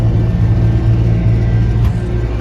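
Close, loud engine rumble of a tractor driving up a road, a steady low drone with no talking.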